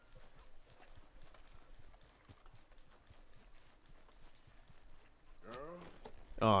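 Steady clip-clop of horse hooves in Red Dead Redemption 2 plods along at an even pace, ending with a louder burst of sound at the very end.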